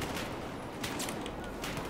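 Continuous gunfire in a Battlefield 4 multiplayer match, a dense rattle of rapid shots with a few louder cracks, with no talk over it.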